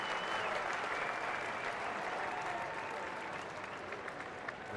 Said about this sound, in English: Nice appreciative round of applause.